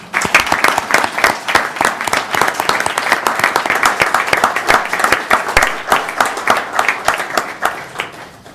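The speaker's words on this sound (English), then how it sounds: "give our men and women in uniform a round of applause" A crowd applauds steadily for several seconds for men and women in uniform, many hands clapping in a dense, continuous patter that holds its level throughout.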